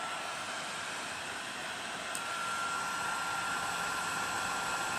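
Heat gun blowing hot air onto a connection: a steady, close, even whooshing hiss that runs unbroken and holds a constant level throughout, with no talk.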